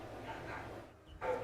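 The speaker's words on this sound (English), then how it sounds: "The dogs are just like barking their lungs out as usual." Dogs barking at home behind a player's commentary during a Swiss conquest strategy game tournament, a short burst of yips and bow-wows coming through faint and somewhat distant.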